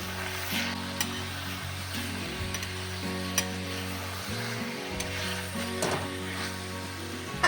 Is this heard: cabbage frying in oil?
yes